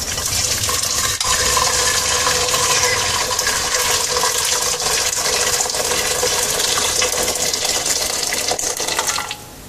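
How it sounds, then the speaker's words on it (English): Pre-boiled water pours steadily into a small glass carboy fermenter for home-brewing ale, a continuous close, loud splashing and gurgling rush lasting several seconds before cutting off. "Alright, so we'll start off with a bit of pre-boiled water."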